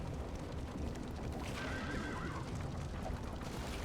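Horses in Darkest Dungeon II whinny over steady clip-clopping hooves as the stagecoach rolls on, a faint, even ride sound.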